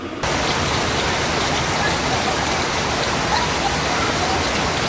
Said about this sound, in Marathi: मस्तपैकी पहिला पाऊस चालू झाला मित्रांनो